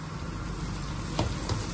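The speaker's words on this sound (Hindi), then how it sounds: "बस इतना ही हमने इनको फ्राई करना है।" Onions frying in a pan until lightly golden, a steady close sizzle with a couple of brief stirring scrapes near the end.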